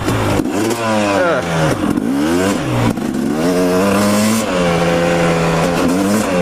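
A dirt bike engine revs up and down repeatedly while riding rutted trails, loud and close with rising and falling tones as the throttle opens and eases off.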